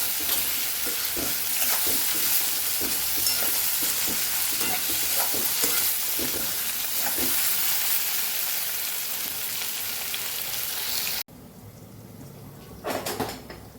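Potatoes stir-fry in a pan for Kathiyawadi batata poha, giving a steady, dense sizzle with scraping spatula strokes throughout. The sizzle cuts off abruptly near the end, followed by a couple of light clatters.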